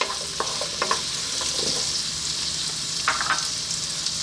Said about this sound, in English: you just need to start adding your hardest vegetables first